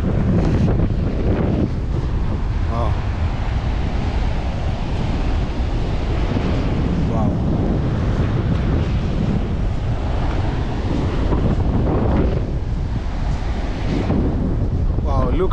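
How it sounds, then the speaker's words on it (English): Strong wind on an African beach buffets the microphone in a constant heavy roar, with faint surf and occasional voices barely audible beneath it. "we are at the beach and you can see it's very windy"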